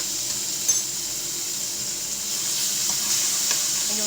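Butter and a clove of garlic sizzle steadily in a pork chop pan, a loud, even hiss running throughout with a faint clink of a utensil near the start.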